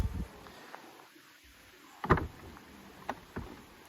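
A Peugeot 508 PSE 2022 door swings shut with one solid, muffled thud up close, followed by a couple of softer clicks and knocks.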